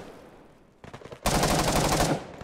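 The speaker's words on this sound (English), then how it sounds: "I'll show you automatic fire with the MK18 without the silencer" MK18 rifle firing full-auto without a silencer in the video game Operation Harsh Doorstop: a few scattered shots, then a loud, dense, unbroken burst lasting close to a second before it cuts off.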